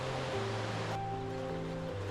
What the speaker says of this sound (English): There's the river right there